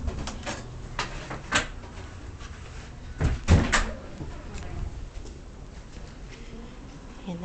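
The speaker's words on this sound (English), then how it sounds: "Oops, helps if I open the door." A door at a pet day camp is opened with a few close knocks and clunks of the latch and frame, followed by a louder thump, with quiet room noise around it.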